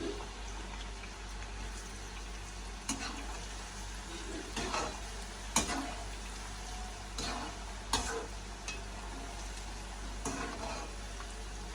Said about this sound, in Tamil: நாங்கள் இந்த ஈரப்பிளாக்காக போட்டு எடுப்போம் பொரிச்சு